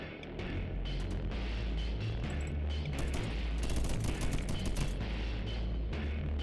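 Turrets firing in the video game Deep Among the Swarm: a dense, continuous barrage of rapid gunfire, loud and layered, with bursts growing busier midway and no talk.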